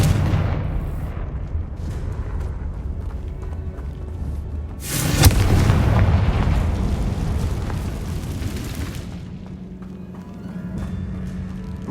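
A Confringo spell explosion in Hogwarts Legacy, one loud booming blast midway that rolls on as a rumbling tail over continuous low game ambience.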